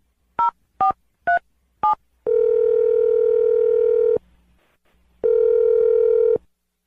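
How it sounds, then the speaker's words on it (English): A telephone number is dialed: four short touch-tone beeps in quick succession, then a long steady tone, a pause, and another long tone, all loud and clear with no voices. "I'm going to dial the phone number and try and get you a second date update right now"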